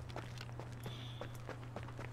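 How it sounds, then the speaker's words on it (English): Game footsteps landing in a steady rhythm of soft thuds, about four to five per second, at moderate level over a constant low hum and background game noise. "I just heard all the footsteps"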